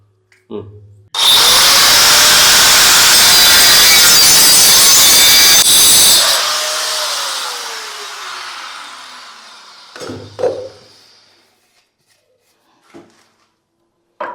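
A six-inch length of pipe is cut to size for fitting a toilet flush tank: a loud, steady saw or power-tool cut of about five seconds starts abruptly, then fades into a trailing rasp, followed by a few brief knocks and handling sounds.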